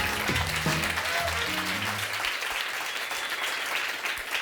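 Studio audience applause on a French-language talk show, dense and sustained, with a short musical sting and some voices over it at the start.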